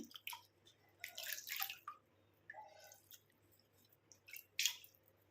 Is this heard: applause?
no